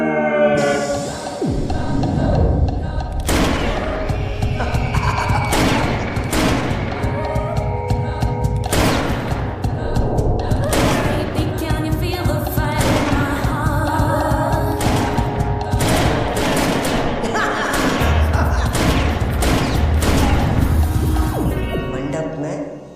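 Gunshots fired at a wedding, a dense barrage of sharp, loud bangs and booms repeating throughout, mixed with music and voices over a continuous festive din.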